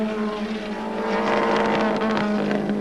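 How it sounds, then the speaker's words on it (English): A touring race car at Phillip Island in the 1990 ATCC round roars steadily, its engine note uneven from a misfire, loud and sustained with no talk. "Glenn's car's got a shocking miss in it by the sound of it."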